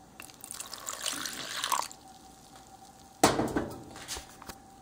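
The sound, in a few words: water poured into flour mixture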